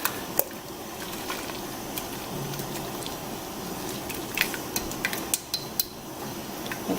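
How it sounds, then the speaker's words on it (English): A utensil stirring Sure-Jell pectin through bubbling grapefruit marmalade in a pan, with soft wet squelching and scattered sharp clicks and taps of metal against the pan sides, quiet and close. "I just want to get my pectin stirred through"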